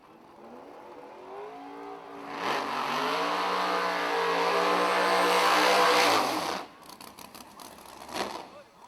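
A 427-cubic-inch Roach Racing Engines 03 Cobra drag car at a drag racing event revs up hard, climbing and holding a loud roar for about four seconds before cutting off, followed by short popping bursts.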